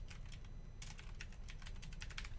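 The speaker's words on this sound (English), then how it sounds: "type in" Fast, light clicking of keys on a computer keyboard as a search term is entered into flight-sim panel software, a close run of quick irregular taps over a steady low background hum.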